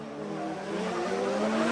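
Drift cars running wheel to wheel in a DriftMasters top-16 battle, engines revving hard and steady with rising harmonic tones, loud and continuous with no talk over it.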